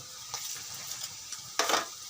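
Teasel gourd (kakrol) frying in a pan gives a steady soft sizzle, with a louder burst of crackling near the end, as if stirred, and no voices.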